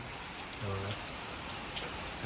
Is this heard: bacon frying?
no